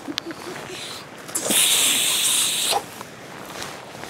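Bug spray hisses from an aerosol can outdoors in a mosquito-filled spot, one steady burst of a bit over a second, close and fairly loud, with faint clicks and handling noise before and after.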